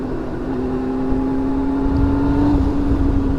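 A Yamaha R1 motorcycle with 19,000 miles and a newly worked-on clutch on a ride, its engine holding a steady, loud droning hum with a slight rise in pitch and intensity toward the end.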